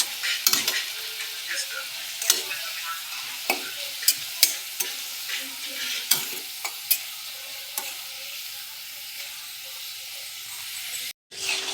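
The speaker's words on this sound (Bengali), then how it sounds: "কড়া ভাজার জন্য একটু" Potato chips deep-frying slowly in oil over low heat to turn crisp, a steady bubbling sizzle broken by repeated sharp scrapes and clinks of a stirring spoon, close and without talk.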